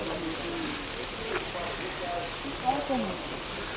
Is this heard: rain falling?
yes